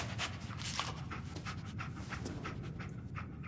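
Dogmeat, the dog companion in the video game Fallout, pants quickly and steadily at close range in a soft, breathy rhythm under a faint background bed, with no talking.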